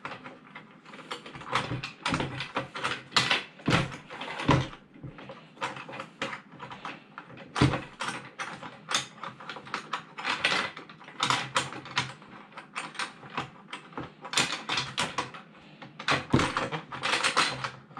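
Desk clamp on a Thrustmaster TX Servo Base being tightened by hand, giving a steady run of close, dry mechanical clicks and rattles in uneven bursts over roughly eighteen seconds, with no talking.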